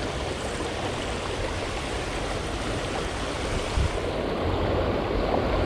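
A knee-deep whitewater stream in shady woods near Murfreesboro rushes steadily, a loud, continuous broadband roar of flowing water close by.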